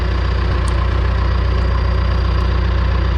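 A bulldozer's diesel engine idles steadily, close and loud, with a rough rhythmic low-end throb during dirt work and no voices over it.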